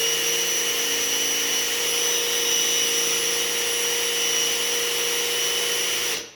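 Festool TID-18 impact driver spinning a long bit, a steady high-pitched motor whine with bright tonal hum that holds even and close throughout before cutting off at the end.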